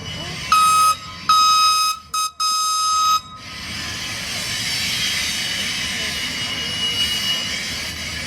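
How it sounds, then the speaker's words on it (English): At SteamTown a locomotive backs up, a rumbling mechanical roar that rises and holds near the end, preceded by a few seconds of loud tonal bursts broken by gaps. "Backing up the locomotive."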